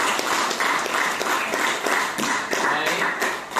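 A class of students in an Indonesian school lesson claps together in dense, steady applause that holds at an even level for a few seconds.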